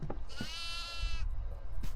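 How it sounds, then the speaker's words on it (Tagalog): A goat bleats once in the horror video game Devour, a drawn-out wavering cry in the middle of the clip over low rumbling game ambience and a few soft thuds. "Hanapin ngayon natin yung kambing ulit."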